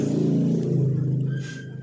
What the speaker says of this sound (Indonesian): bentar ada motor